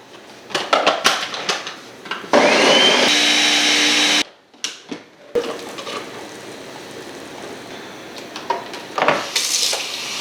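A countertop blender whirs through a smoothie of bananas, mangoes, strawberries, spinach and coconut milk, a loud steady motor roar with a rising whine lasting about two seconds, framed by the clatter of kitchen dishes before and after.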